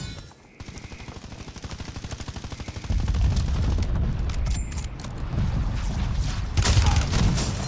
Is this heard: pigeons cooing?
no